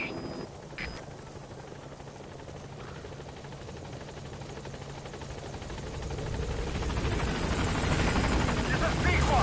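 The Pequod helicopter in Metal Gear Solid V approaches a landing zone, a steady rotor whine and broadband wash that grows louder over the final seconds, with a brief radio-style blip near the start.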